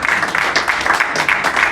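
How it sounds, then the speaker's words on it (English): An audience at a mentorship event claps in a dense, steady burst of applause, close and fairly loud throughout. "Can you clap, please?"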